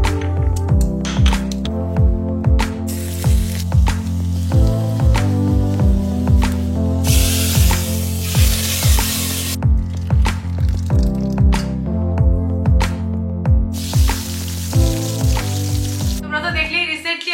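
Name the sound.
ivy gourd (kundri) frying in a pan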